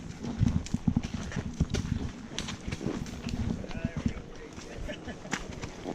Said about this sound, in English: That's a big old horse.